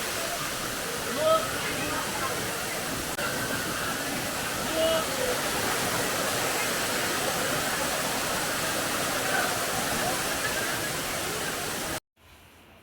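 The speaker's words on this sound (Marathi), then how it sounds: "इथे दिसतो धबधबा वहाळमध्ये कन्वर्ट झाला आहे" Kasarvadavali hidden waterfall running on as a stream near Thane, a dense, steady rushing roar that fills about twelve seconds at a constant loud level before cutting off abruptly into a quieter tail.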